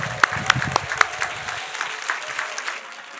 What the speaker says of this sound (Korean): 여기 등단하실 때까지 환호성과 박수로 모시겠습니다